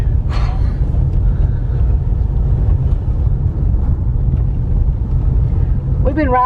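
A vehicle rolls down a rural dirt road, giving a steady loud low rumble with wind buffeting the microphone, and brief speech near the start and end.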